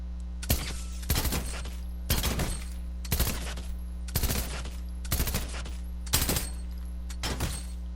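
Machine pistol in Fortnite firing about eight loud, sharp bursts of rapid shots, roughly one burst per second with short gaps between them.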